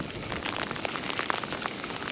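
Steady rain falls during a storm beside a chalk stream, a dense, close patter of drops hitting surfaces with no break and no voices.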